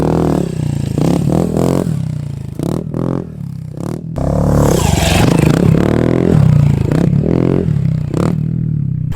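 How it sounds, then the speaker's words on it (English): Small pit bike ridden on a dirt track, its engine revving and rising and falling in pitch with scraping and clattering, loud and close, with throttle swells throughout. "Who needs coffee in the morning when you can start your day out on a pit bike track?"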